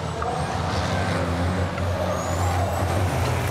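Powerful 1,200 PS racing trucks roar around the Le Mans circuit in the rain, a loud, continuous engine drone with hissing spray and no pauses.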